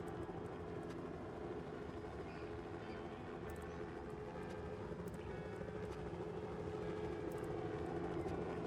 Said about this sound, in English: helicopter gets really annoying